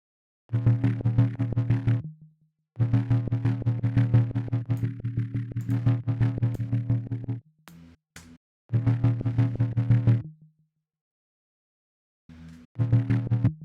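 A buzzy, gritty synth tone in a drum and bass track plays in repeated phrases with hard-edged sizzling distortion and bright fizzing overtones, separated by brief silences.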